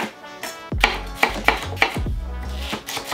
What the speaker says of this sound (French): Et là, on va couper les poivrons, pareil que l'oignon.